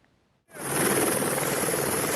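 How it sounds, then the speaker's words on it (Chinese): A fire department rescue helicopter flying overhead, its rotor roar bursting in after half a second of near silence and then holding loud and steady to the end. "消防直升机飞伫空中"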